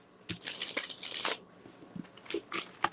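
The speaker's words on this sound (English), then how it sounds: "So every card has a different way of being shuffled." Tarot cards being shuffled by hand, producing a run of crisp, papery riffles and flicks at close range with no talk.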